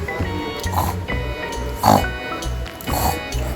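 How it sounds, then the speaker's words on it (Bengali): A pig oinks and snorts in three short grunting bursts at an even pace, each bursting out of a steady low-pitched backdrop, with no talking. "পিগ কিভাবে ডাকে।"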